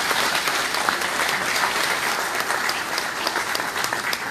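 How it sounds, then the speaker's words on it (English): Dense, steady applause from the audience at a political PAC meeting in Erie County, with many hands clapping continuously at close range for several seconds and no one speaking. "And now he deserves a round of applause."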